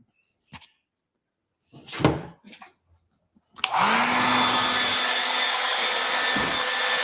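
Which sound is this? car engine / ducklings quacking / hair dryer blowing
hair dryer blowing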